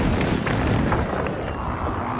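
Grenade blasts in Call of Duty: Warzone, a broad rumbling explosion with debris roar filling the clip and slowly decaying, loud and close with no talk over it.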